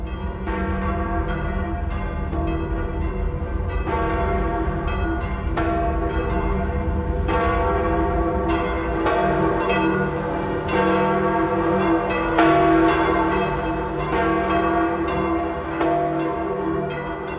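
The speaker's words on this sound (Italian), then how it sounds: "alla quale donò una grande campana" A large church bell at St. Peter's Basilica in Rome rings with steady, sustained tolls, its rich overlapping overtones hanging continuously in the air, loud and close with no voices.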